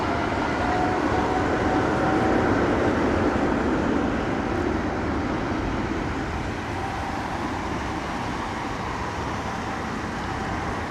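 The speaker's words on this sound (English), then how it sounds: "British Airways 777 departing there." A British Airways 777 jet departing London Heathrow Airport, a steady, broad, distant engine roar that stays level and unbroken throughout.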